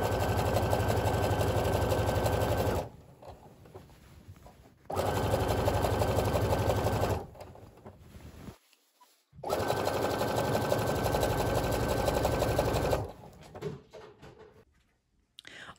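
A sewing machine fitted with a rolled hem foot runs a double fold hem on rayon woven fabric in three loud, steady runs of close motor hum, separated by brief quiet pauses.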